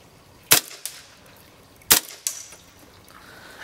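A KWA H&K MP7 airsoft gun firing 0.2 gram BBs through a chronograph: two sharp, loud shots about 1.5 seconds apart, each followed by a lighter click.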